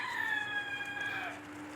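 A rooster crows once in the distance near a truck camper setup, a faint drawn-out call that falls in pitch and fades over a steady low background hum.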